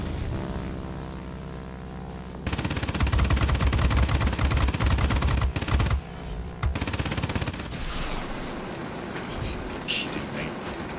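Rapid aircraft machine-gun fire in World of Warplanes, with a Northrop P-61 Black Widow in the air, comes as dense bursts over steady engine drone, then breaks off and resumes more faintly.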